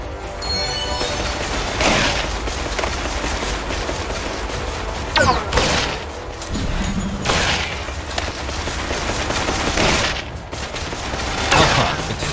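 Dense, continuous gunfire from the Killsquad co-op action game, with sustained bursts and periodic louder blasts, a command voice speaking over the shooting.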